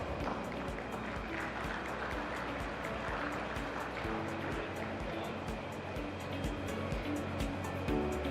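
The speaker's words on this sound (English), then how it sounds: "Let's have a big round of applause." Audience applause at a business partnership summit: steady, dense clapping fills the hall for several seconds at a moderate distance, with no clear pauses.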